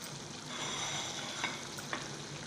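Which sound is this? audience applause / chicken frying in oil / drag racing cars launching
chicken frying in oil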